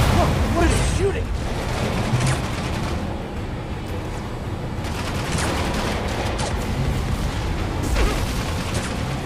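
Enemy gunfire in Spider-Man Remastered, a dense continuous rattle of shots and booms layered with game effects and a voice speaking throughout.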